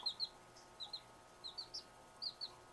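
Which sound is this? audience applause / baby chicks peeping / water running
baby chicks peeping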